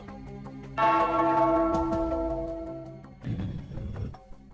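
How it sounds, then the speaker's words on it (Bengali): A bell rings out in one loud, sustained peal that slowly fades, followed by a rougher burst of clanging near the end, with no talk over it. "ওই ঘন্টাটা বাজাও বাজাও"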